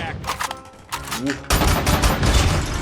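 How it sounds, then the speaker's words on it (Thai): SKS rifle fires in the mobile game Call of Duty Mobile: loud, close shots come in quick bursts, then a dense roar of gunfire and noise takes over; a voice briefly sounds early on. "ผมรู้สึกว่ากระสุนมันกดเร็วนึกว่ามันออกทีละสองนัด"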